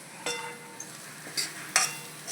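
A spoon stirs spices in a pan over the flame for Gujarati kantola (spiny gourd) sabzi, giving a few quick scraping strokes with light sizzle between them, close and fairly quiet.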